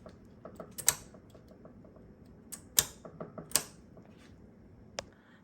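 Knitting machine needles are pushed forward one after another, giving a scattered series of sharp metallic clicks and clacks at irregular spacing, close and clear over a quiet background.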